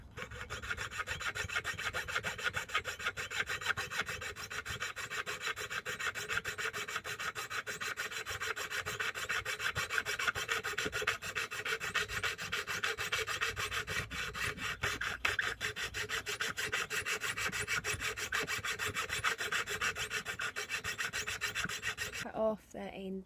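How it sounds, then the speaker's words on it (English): Jeweller's saw steadily rasping through the handle of a vintage silver plate spoon, a continuous fine back-and-forth cutting scrape held close and even for the whole stretch, stopping abruptly at the very end. "I've started cutting into this, and I'm just going to finish that off"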